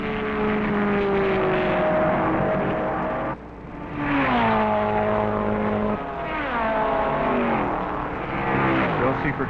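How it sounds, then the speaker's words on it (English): 1969 Porsche race cars pass at the 24 Hours of Daytona, engines droning with rising and falling pitch as they go by, loud and sustained, with a commentator's voice over the top. "Vic Elford's stint in first place is short as the Seifert Porsche number 50 passes him on the back straight."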